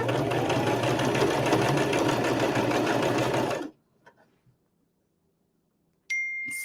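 A sewing machine stitches quilt block fabric in a fast, steady whir for several seconds, stops into near silence with faint handling, then starts up again briefly.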